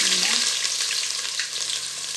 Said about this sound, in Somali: basash haday noo shiilamto